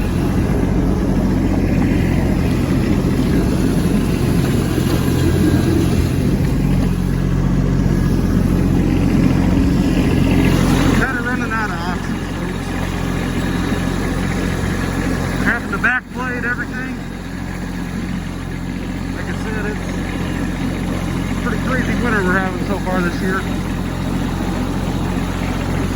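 A work truck engine runs steadily while pulling out of a snowy driveway, giving a continuous low, close rumble that holds throughout with slight dips partway.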